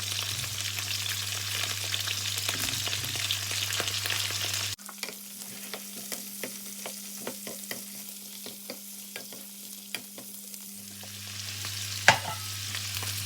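Carrots and broccoli stir-fry in a hot pan for oyster-sauce beef, a loud steady sizzle at first that drops to a quieter crackle, with close spatula scrapes and clicks through the rest, no voices.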